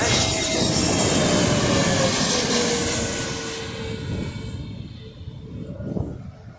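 EasyJet Airbus A320neo airliner at an airport, its engines roaring loud and broadband, then gradually fading as the aircraft moves away, with no talk over it.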